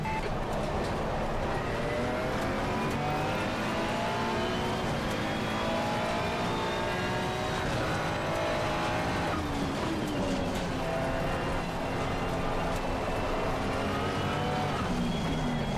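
Sim racing car engine at close range, revving high and shifting through gears with rising and falling pitch sweeps, plus faint tire noise, loud and unbroken over the whole stretch.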